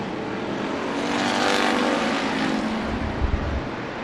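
Dirt track race cars at Bakersfield Speedway roar past side by side on the front straightaway, engines swelling loud then fading, with no voices over them.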